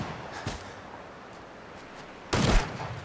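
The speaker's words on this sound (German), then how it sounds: "ich höre Schüsse" Gunfire in the post-apocalyptic video game Fallout 4: a faint distant pop, then a louder burst of shots near the end, over a low steady game ambience.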